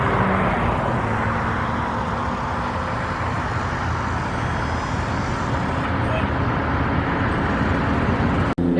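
Steady, loud road traffic roar beside a theme park construction site, a continuous wash of passing vehicles with a voice talking over it.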